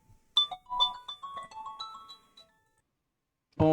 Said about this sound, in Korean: 갑자기 전화가 와가지고요.